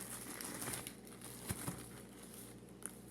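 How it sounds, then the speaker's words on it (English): A plastic Ziplock sandwich bag is sealed and handled, giving faint soft crinkling and rustling with a few sharper clicks and pops. "you seal it, and then you mold it to fit into the bag."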